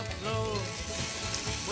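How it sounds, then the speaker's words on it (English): Potatoes fry over low heat in a pan for a hearty breakfast, giving a close, steady sizzle while being stirred, with shifting scraping textures. "let's give it a little stir"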